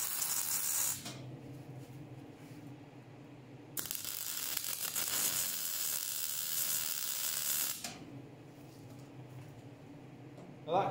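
Tack welding on a steel frame for an engine test rig in a workshop, a loud steady crackling hiss lasting about four seconds, with quieter rustling and handling noise before and after.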